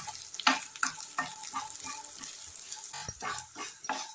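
Vermicelli roasting in a pan with bitter gourd, a quiet continuous dry sizzle with repeated scraping stirs at an uneven rhythm, heard close up.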